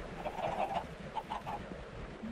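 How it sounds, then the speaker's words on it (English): Minecraft video game chickens cluck and squawk in a couple of short bursts over a soft, noisy background. No one speaks. "I have quite a few chickens in there right now."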